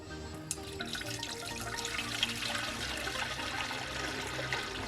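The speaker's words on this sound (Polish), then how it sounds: "A więc wlewamy najpierw nasz pierwszy składnik wodę." Water being poured into an outdoor aquarium, a soft continuous splashing and trickling with light gurgles, fairly quiet and steady with low wind rumble underneath.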